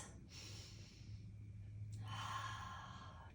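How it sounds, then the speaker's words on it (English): Slow, deep breaths during an office desk yoga session: a long airy inhale followed by a fuller, louder exhale, close and breathy over faint background hum. "take giant breaths."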